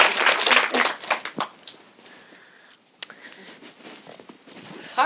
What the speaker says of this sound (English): please give a big round of applause for first date